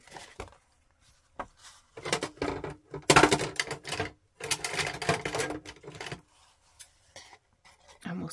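Scissors cut pieces of book-page paper in short bursts of crisp snipping and rustling, close by, separated by brief quiet gaps, with a louder cluster of cuts in the middle.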